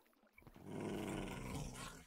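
A dog in a Minecraft game lets out a low, sustained growl that swells after a brief pause and holds steady for about a second and a half, close and fairly loud, with no talk over it.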